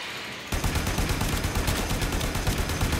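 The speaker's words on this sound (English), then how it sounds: "Let's see what my low rank gun can do." Sustained rapid gunfire from a low-rank gun in the video game Warframe, starting abruptly after a brief quiet moment and continuing as a dense, loud, continuous rattle with no voices.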